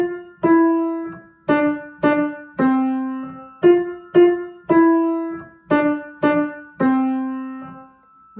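Piano playing a short beginner exercise melody from the Russian piano school method, about a dozen clear single notes struck one at a time in an even, slow rhythm, each ringing and decaying before the next, close and alone.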